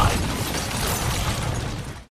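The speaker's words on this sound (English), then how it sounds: "The explosion just a few feet away." A close-range explosion in a movie scene, a loud, dense, sustained blast roar with crackling debris filling the whole clip before cutting abruptly to silence.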